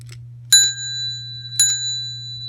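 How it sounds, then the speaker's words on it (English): An old Otis elevator bell rings twice, each a sharp metallic strike with a clear ringing tone that decays over about a second, close up over a steady low hum. "I've got a old Otis bell"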